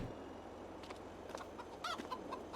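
Chickens cluck softly inside a crude little video-game hen house, a few faint, brief clucks over a low steady background hum.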